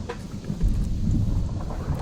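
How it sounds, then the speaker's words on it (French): Thunderstorm inside a modded tornado survival video game: a steady low rumble of thunder with rain and wind noise, loud and continuous throughout with no voices. "Non, c'est de l'orage."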